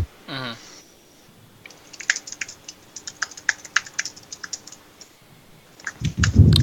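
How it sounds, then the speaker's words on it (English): Rapid typing on a computer keyboard, close and crisp, with dense irregular bursts of key clicks and a brief voice at the start. "Furious typing."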